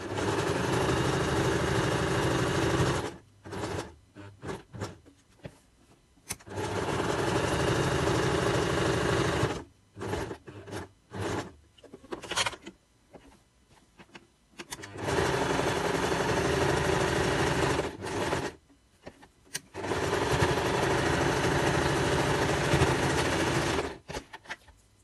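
A sewing machine stitches quilt patchwork in several long, loud bursts of rapid mechanical whirring, separated by short pauses and quieter handling sounds, close up and with no voices.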